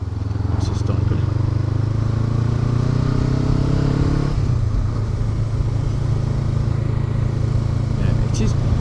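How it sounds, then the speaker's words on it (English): A Honda Africa Twin motorcycle engine idles with a steady, deep, close-up rumble and a slight rise in pitch midway, while someone talks over it throughout. "The thing with this bike is, it's a great sound, but I'm wondering whether it's going to get annoying."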